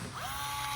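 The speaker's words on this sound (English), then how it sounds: "it's a Milwaukee electric rivet gun" A Milwaukee electric rivet gun gives a short, steady mechanical whir with a ratcheting, gear-like quality, close and fairly quiet, with no voices.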